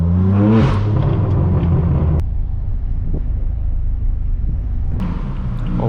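Straight-piped BMW M4 F82 exhaust roaring loudly up close while driving, a harsh revving burst with a sharp crack as the revs drop, settling into a steady deep rumble before another rise at the end.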